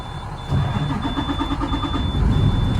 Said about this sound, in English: I'm gonna put the truck in neutral, start the vehicle.